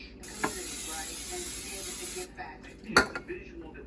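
An aerosol spray hisses steadily for about two seconds over racks of ground beef and venison jerky. A few sharp metallic clicks and clatters follow from the racks.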